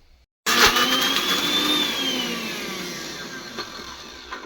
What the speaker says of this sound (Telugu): వేసేసుకొని మిక్సీ పట్టేస్తాను మిక్సీ పట్టేస్తాను